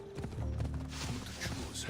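Horse hooves clip-clop in Assassin's Creed Odyssey, a quick run of steady hoofbeats over game music and ambience, fairly close and moderately loud.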